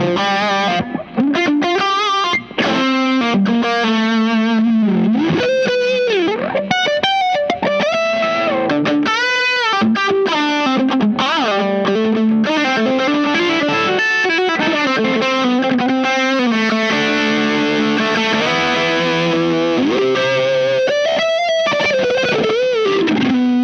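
Electric guitar through a Dazatronyx TSX overdrive pedal with the lead boost engaged, playing a loud, continuous, distorted lead line for over twenty seconds with no talking.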